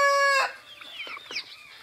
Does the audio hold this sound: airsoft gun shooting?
no